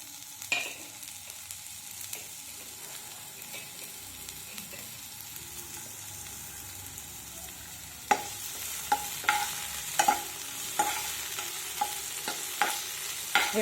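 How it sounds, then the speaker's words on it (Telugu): Sliced onion and green chillies frying in hot oil for a dal, with a steady sizzle that grows louder partway through, accompanied by repeated stirring scrapes and clicks of a spoon against the pan. "ఇది ఫ్రై అవ్వాలండి బాగా."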